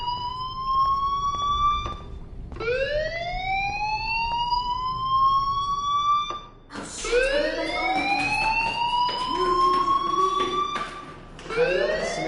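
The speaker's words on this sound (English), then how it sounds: "Hey, do you hear that fire alarm?" Fire alarm ringing in the video game Life is Strange, a loud electronic siren with repeated rising sweeps that keeps wailing for the whole stretch, restarting several times without pause.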